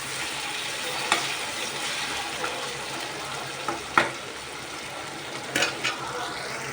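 Raw banana, brinjal and broad beans sauté in oil for a village-style dried fish curry, a steady close sizzle and frying hiss with a few sharp stirring scrapes and clinks against the pan.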